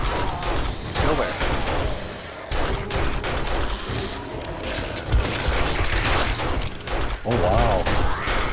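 Explosions rumbling through a base in 7 Days to Die, heavy booms and bursts over several seconds under loud game noise and voices.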